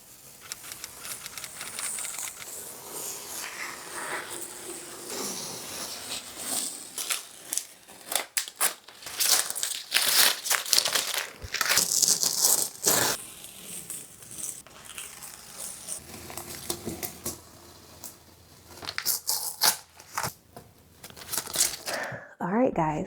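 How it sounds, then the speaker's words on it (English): Painter's tape is peeled off a freshly painted entryway wall, producing intermittent crackling, tearing and crumpling bursts over about twenty seconds while a person talks in between. "I'm gonna take tape off"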